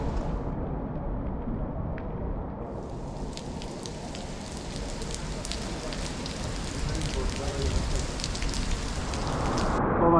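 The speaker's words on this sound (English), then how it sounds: "the rain turned literally into, I don't know, it's like raining buckets" Heavy rain pours down on a coastal outing between Sorrento and Positano, a dense continuous hiss and patter that builds louder toward the end, close around the listener with no talk.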